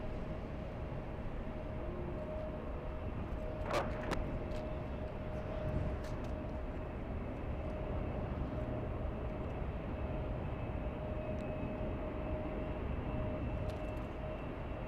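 A Lufthansa Boeing 747 at LAX produces a constant broad jet roar with a steady humming tone running through it, heard from a distance with a few faint clicks.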